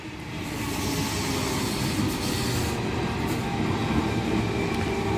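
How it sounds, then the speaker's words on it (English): A Sydney suburban electric train rumbles steadily through the platform at Toongabbie station on New Year's Eve, a continuous mid-distance roar with faint rail clatter and no voices. "We have a train about to pass platform number 2."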